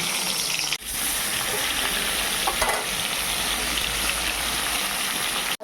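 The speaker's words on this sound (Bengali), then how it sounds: "সর্ষের তেল দিয়েছি এবার ইলিশ মাছগুলো ভেজে নিচ্ছি রসার জন্য" Hilsa fish frying in hot mustard oil in a pan, a loud, steady broadband sizzle that runs almost unbroken and close up, with one brief dip and no talking.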